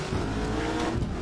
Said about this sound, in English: I hear a car to my left.